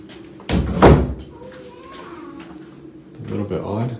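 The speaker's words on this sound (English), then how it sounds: "Kind of strange doors for the bathroom." A hotel bathroom's double doors at a La Quinta Inn in Albuquerque bang shut with one sharp, close thud, followed by softer rattling and someone speaking over quiet room noise.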